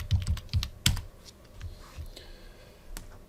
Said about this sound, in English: I want you to type in the word basic.